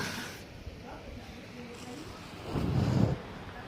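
Strong wind gusting outdoors on a stormy night, a steady rushing roar that swells into a louder buffeting burst near the end, heard close to the microphone.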